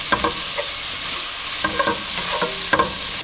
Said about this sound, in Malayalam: കറിവേപ്പില, ആവശ്യത്തിന് ഉപ്പ് എന്നിവയിട്ട് നന്നായിട്ട് മിക്സ് ചെയ്യുക